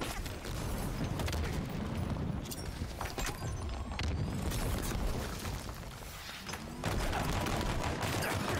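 Dense, continuous gunfire from Halo Infinite multiplayer, with rapid overlapping shots and booms that stay loud and busy throughout, with no pause between bursts.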